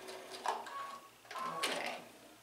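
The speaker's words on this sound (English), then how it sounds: "I will be stitching up to, but not through that seam allowance, and back stitching." A sewing machine stitches a quilt block seam, back stitching near the seam allowance, in two short quiet bursts of whirring stitches with a brief pause between them.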